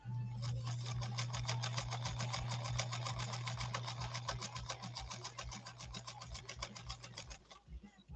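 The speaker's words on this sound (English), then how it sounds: "try to get our stitch line down, and then we'll see if we can lay down a straight stitch next to it as well" A 1957 Japanese Fleetwood 492-TW sewing machine stitching vinyl, a fast, steady mechanical chatter with a droning motor hum that runs for about seven seconds, then winds down to a stop.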